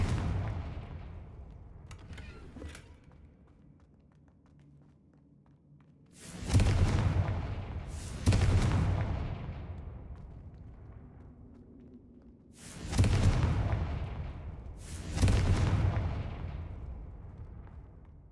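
Confringo blasting spells explode in Hogwarts Legacy, four loud booms arriving in two pairs. Each blast hits hard and close, then rumbles and fades slowly between the strikes.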